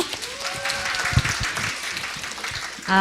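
Audience members at a public debate forum on child allowance in Seongnam clap for a parent representative, a modest stretch of scattered claps under a faint tonal hum, with a brief louder burst at the very end.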